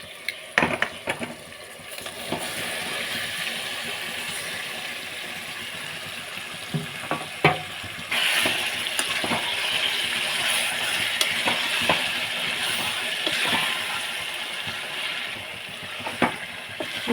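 Masala-coated chicken is sautéed with tomato and a little salt in a pan. A soft, steady sizzle runs under occasional scrapes and clinks as the mixture is stirred, and no one speaks.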